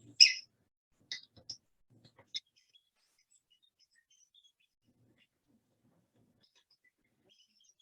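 A recording of woodpecker calls played back outdoors, a few sharp, high, brief calls in the first few seconds, followed by near silence.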